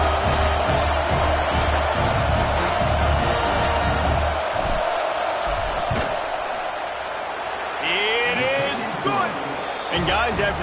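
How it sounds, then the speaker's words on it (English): A college football stadium crowd roars before a field goal kick, a loud sustained wall of noise and cheering that swells and ebbs, with a broadcast commentator talking over it. "This crowd trying to do its part to get inside the kicker's head."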